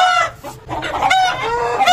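A rooster clucks loudly and close, a series of harsh, throaty calls rising and falling over two seconds with no talking.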